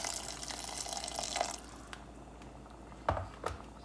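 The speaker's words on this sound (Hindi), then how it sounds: "अब मैंने जो बॉयल पानी रखा था मैं वो शामिल कर देती हूँ" Boiled water is poured into a pan of chicken fried in ghee, a steady rushing hiss for about a second and a half that fades, followed by a couple of soft clinks.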